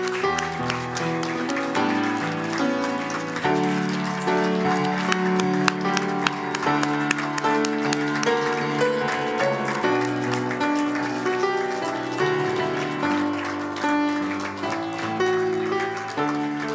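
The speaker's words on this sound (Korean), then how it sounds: "저와 여러분의 이 격려의 박수는 하나님의 축복이 충분히 될 줄로 믿습니다." A church congregation claps together at the close of a Sunday worship service, a dense, steady spread of applause layered over ongoing instrumental music that carries on throughout.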